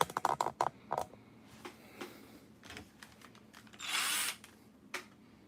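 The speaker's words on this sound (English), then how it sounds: "I'm going to get to drilling" A power drill backs Phillips screws out of a Kyosho Quad Rider RC model, with a short whirring burst in the middle among light clicks and taps of handling parts, close and fairly quiet.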